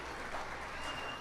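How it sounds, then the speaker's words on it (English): Audience at a 4-H swine show clapping for the kids and the barn superintendent, a short steady burst of applause in a barn setting, moderately faint and even throughout. "Let's give a round of applause for our kids"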